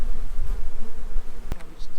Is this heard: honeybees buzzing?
yes